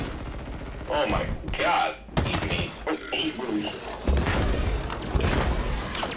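Gunfire aimed at a Hunter in the Halo Infinite campaign: bursts of rapid shots and booming impacts come in clusters, with a player talking over the shooting.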